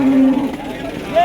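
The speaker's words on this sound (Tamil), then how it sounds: "இங்கேயும் பார்த்தீங்கன்னா ஒரு பசுமாடு ஒரு கண்ணுக்குட்டியோட கொண்டு வந்திருக்காங்க." A cow brought with her calf to the Vaniyambadi cattle market gives a low, drawn-out moo, then a brief higher call, amid nearby crowd noise.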